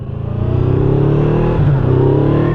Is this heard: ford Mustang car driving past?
yes